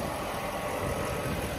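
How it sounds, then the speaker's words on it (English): A Mercedes SL500 engine idles steadily and evenly close by, a continuous smooth mid-range hum with no variation in pace and no voices. "We've got the engine running right now."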